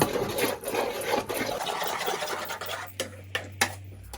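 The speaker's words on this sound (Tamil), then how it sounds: "இந்த வெள்ளத்தை போட்டு நல்லா அப்படியே கிண்டி விட்டே இருக்கணும் 5 நிமிஷம்" Jaggery being stirred into chilli kuzhambu in a pot, repeated scraping and clinking of a spoon against the pot with a soft liquid swirl, close and moderately loud, ending in a few sharper knocks.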